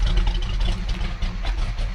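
A 1970 Chevrolet C20 with a factory big-block 402 V8 idles low and lopey, a deep, loud rumbling pulse close by with no talking.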